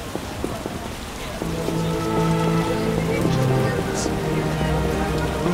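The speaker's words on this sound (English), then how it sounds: "What a downpour!" A heavy downpour in The Witcher 1 Enhanced Edition hisses steadily, with rain drumming on surfaces and low tonal background hum beneath it.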